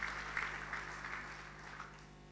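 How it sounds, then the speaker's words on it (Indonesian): A church congregation applauds together, a sustained, moderately distant patter of clapping that swells slightly and then gradually tapers off. "Tepuk tangan saudaraku"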